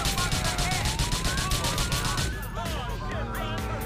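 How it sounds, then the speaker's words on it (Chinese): A police car siren from the video game GTA4 wails in a rising and falling electronic tone, loud and close during a chase, then shifts pattern midway, with voices talking over it. "哎，这警笛变掉了都"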